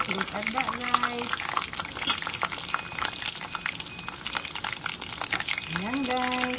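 Crispy pork chicharon sizzles and crackles steadily while frying in hot oil, a dense, continuous bubbling texture heard up close, with a person speaking over it.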